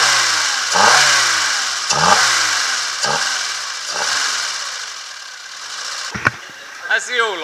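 A Citroën Saxo engine is cranked repeatedly in short bursts, each a rising whirr that fails to catch, before sharper clanks and a brief rough start near the end.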